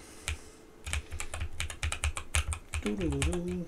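Rapid, close keystrokes on a NuPhy Air75 v2 slim mechanical keyboard, clicking in an uneven stream, with a voice briefly heard near the end.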